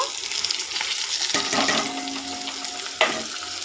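Chopped onion hits hot oil with black cumin seeds in a kadai, giving a close, steady sizzle with sharp bursts of crackle as pieces drop in.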